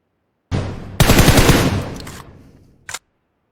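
A burst of automatic gunfire rattles loudly in PUBG Mobile, a sustained rapid volley ringing out and fading, then one more sharp shot; close and dominant with no talk.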